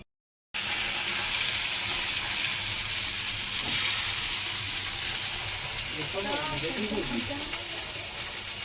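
Prawns fry in a pan for an Odia prawn curry, giving a loud, constant close sizzle with a hissing spatter throughout, and a voice talks briefly over it near the end.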